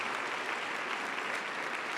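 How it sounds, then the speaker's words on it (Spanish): A church congregation applauding during a Sunday sermon, a dense continuous roar of clapping holding steady and full for the whole stretch. "dale un fuerte aplauso al Rey"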